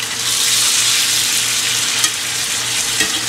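Potatoes frying in a pan of butter and olive oil, a steady close sizzle with faint tosses and two small knocks, no voices.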